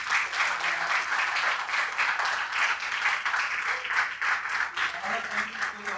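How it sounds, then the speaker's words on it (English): A meetup crowd at a React developer gathering in Hyderabad gives a round of applause after a panel discussion. Dense, close clapping pulses steadily, with faint voices and cheers mixed in. "give them a huge round of applause."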